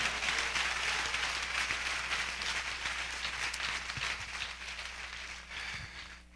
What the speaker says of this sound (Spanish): Denle ese aplauso a Cristo en esta noche.